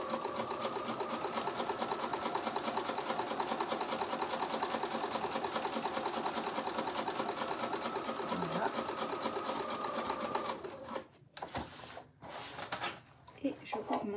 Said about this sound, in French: Je fais un point avant-arrière et je vais coudre sur toute la longueur.